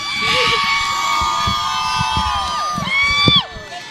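Crowd cheering at a girls' high school basketball game, loud sustained shouts and high-pitched screams from the stands with whoops rising near the end, over a rumble of stomping and noise.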